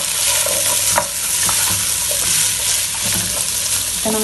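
Diced potatoes sizzle in a pot with hot fat while being stirred for spinach and watercress soup, a continuous loud frying hiss with occasional scraping knocks of the spoon against the pot.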